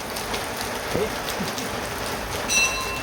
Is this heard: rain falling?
yes